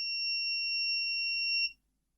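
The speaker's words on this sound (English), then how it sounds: "We can hear the buzzer" A steady high-pitched electronic buzzer tone from an ESP8266 microcontroller board sounds alone for under two seconds, then cuts off abruptly into silence.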